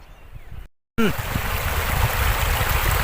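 The Kho river beside a hillside plot near Lansdowne in the Himalayan foothills rushes past in a steady, broad watery roar, close and continuous after a brief cut, with faint softer sound before the break.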